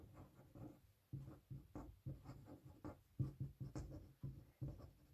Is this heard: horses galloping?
no